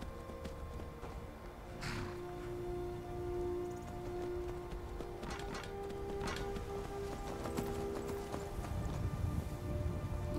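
Horse hooves pound at a gallop in Skyrim, the repeated strikes clear and fairly close over a low in-game ambient hum, with no talking.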